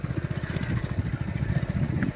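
A motorcycle putters along a rough, dangerous track through dense forest in the Satpura hills, its engine close and steadily pulsing throughout.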